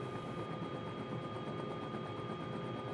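Bell 206L3 helicopter in Microsoft Flight Simulator 2020, idling on the ground at Van Nuys: a steady turbine whine with broad rotor roar that stays loud and unbroken throughout, with no voices over it.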